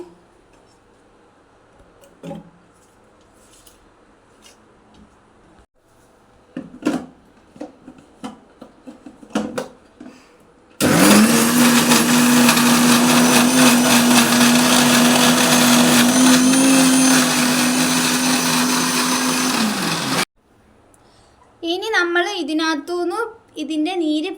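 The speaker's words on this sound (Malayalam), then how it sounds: "മിക്സിയിലിട്ട് അടിച്ചിട്ട് ജ്യൂസ് എടുക്കണം" Quiet clicks and handling noises, then a loud mixer grinder blending banana leaf whirs steadily for about ten seconds and stops abruptly, followed by a voice.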